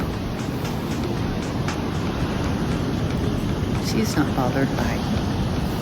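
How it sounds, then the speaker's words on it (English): Surf rumbles and wind buffets the microphone on a California beach as white-topped ocean waves crash nearby, a steady roar beneath a voice speaking briefly. "white top waves crashing."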